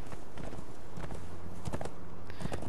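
A horse's hooves clip-clop across the ground in Conan Exiles, a quick run of close, hollow knocks with a few louder strikes, heard without any talking.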